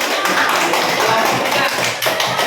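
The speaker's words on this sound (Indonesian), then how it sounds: "tepuk tangan untuk kelompok 2" Classmates clap for a student group during an elementary school lesson, a fairly loud, continuous patter of many hands close by, with faint voices underneath.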